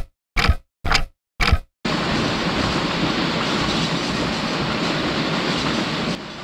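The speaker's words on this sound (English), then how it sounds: "What were you thinking trying to pull this long passenger train?" Three short bursts of puffing, then a steady loud rumbling roar of a long passenger train running on rails in the video game Trainz, continuing without pause to the end.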